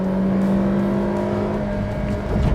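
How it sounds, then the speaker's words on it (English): A 2022 Maruti XL6 held at redline in second gear, around 6000 rpm, gives a loud, steady engine drone with a sustained high whine that barely changes pitch throughout. "We are in second gear now, and I am redlining the car."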